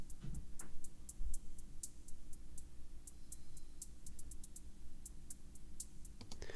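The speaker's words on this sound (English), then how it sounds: "high frequencies, which is from about 10 kilohertz and above" Music passed through an EQ so only the content above about 10 kHz remains: a thin, airy wash with steady hi-hat and cymbal ticks in a regular rhythm, quiet and alone.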